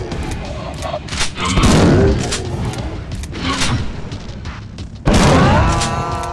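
Gunfire in the old-school FPS Unloved, a couple of heavy booming shots with mechanical clatter and thuds, loud and close, the second blast hitting sharply near the end.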